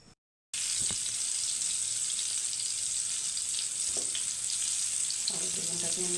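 Spiced eggplant hits hot oil in a pan and sizzles loudly and continuously after a brief quiet start, with occasional soft knocks of a utensil and no voices over it.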